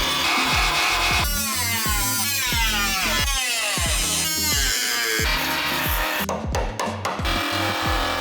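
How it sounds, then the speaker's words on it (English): A power tool works on a GR Supra body, drilling out spot welds in steady continuous bursts with shifting pitch, close and loud throughout, with no one talking. "So I'm gonna take these spot welds off, and then maybe I'll cut it up there"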